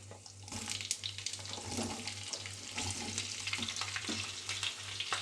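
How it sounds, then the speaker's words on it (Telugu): Cut potatoes dropped into hot oil with tempering spices such as chana dal and urad dal, giving a steady sizzle and hiss that stays busy and close throughout, with a low electrical hum underneath. "ఇప్పుడు మనం ఇందులో కట్ చేసి పెట్టుకున్న బంగాళాదుంపను వేసుకుందాము"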